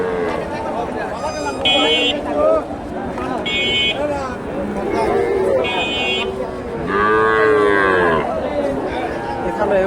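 At a cattle market in Bogura, Sahiwal and local bulls moo loudly, with a long drawn-out low moo near the end, while people talk over a busy background of voices and clatter.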